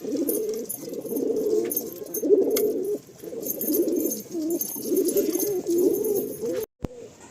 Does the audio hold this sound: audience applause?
no